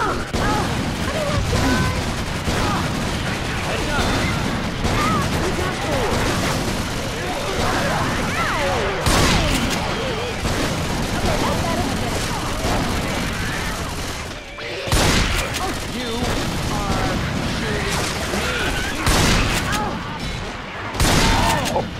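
Dense, sustained gunfire from Left 4 Dead 2 in a swamp setting, rapid overlapping shots with a few brief pauses, loud throughout and mixed with voices talking.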